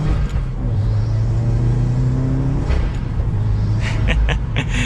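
A 2021 Subaru WRX Premium with aftermarket modifications drones and revs through its exhaust from inside the cabin on a test drive, a loud steady engine note rising in pitch, with a brief burble near the end.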